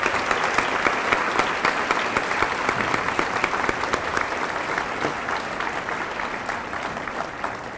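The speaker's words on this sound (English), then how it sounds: "Please join me in a round of applause for these wonderful educators." A large audience at a high school academic award night applauds educators being honored, sustained, dense clapping that stays steady and loud throughout with no voices rising above it.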